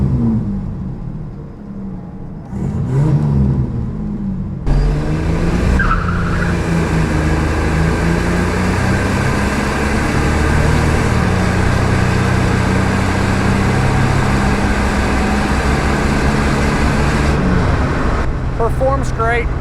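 A 1987 Buick Grand National on a test drive accelerating hard, its engine rising into a loud, sustained roar heard from inside the car, then easing off near the end.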